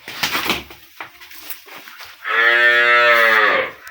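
A high-yield Sahiwal Sindhi dairy cow with four teeth gives one long, full, close moo in the second half, after a stretch of quieter shuffling and knocking sounds around the farm.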